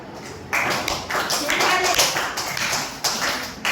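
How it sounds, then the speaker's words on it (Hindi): A classroom of students claps hands together, a dense burst of quick overlapping claps that starts abruptly and carries on loud and close for several seconds. "ए बजाओ ताली।"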